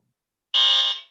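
A single loud, harsh electronic quiz buzzer blast lasting about half a second, then fading out, with silence before it.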